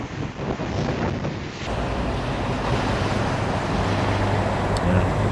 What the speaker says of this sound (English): Yeah, the wind's picked up.